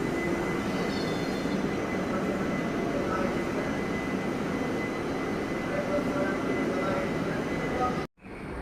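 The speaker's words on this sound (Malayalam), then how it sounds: "നമ്മുടെ ട്രെയിൻ എങ്ങനെ കോയമ്പത്തൂർ റെയിൽവേ സ്റ്റേഷനിൽ നിന്നും പുറപ്പെട്ടിരിക്കുകയാണ്." An intercity train pulling out of Coimbatore railway station, a steady rumbling roar heard from on board, with a voice talking over it before a sudden cut near the end.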